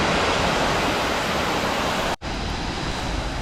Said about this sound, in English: Waterfall, third one.